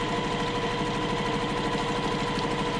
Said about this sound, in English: Hold my machine and stitch.